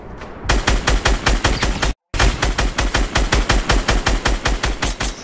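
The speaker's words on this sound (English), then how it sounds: "Someone's shooting me for real." Sustained automatic gunfire in Fortnite, a loud, steady stream of rapid shots briefly cut by a moment of silence before the fire resumes at the same pace with no voices.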